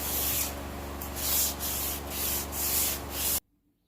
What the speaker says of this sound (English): This piece is easiest if we hand sand.